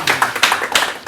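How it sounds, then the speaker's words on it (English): An audience at a panel debate gives a short burst of applause, with a few loud clusters of hand claps close together over about a second. "We'll give you a round of applause because you're here."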